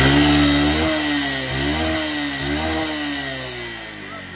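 A Honda Dream motorcycle engine, awaiting repair, runs steadily at close range with a rough, buzzing idle, dipping briefly in pitch about three times as the throttle shifts.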